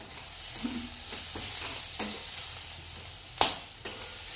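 Mutton sizzles and fries in a wok, with a constant hiss broken by a few sharp scrapes and clanks of stirring.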